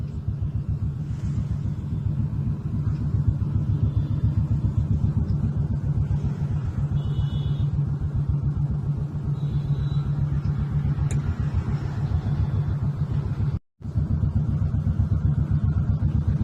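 Stalled evening traffic on the Koregaon Park bridge in Pune, a steady low engine rumble from idling vehicles filling the scene, with faint wind noise and a brief dropout near the end.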